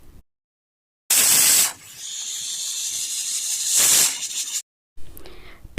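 A pressure cooker on a gas stove lets off loud, sharp bursts of hissing steam, one long blast, then a steadier hiss, then a second loud burst, with no talking.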